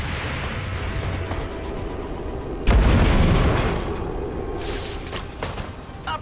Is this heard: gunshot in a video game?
yes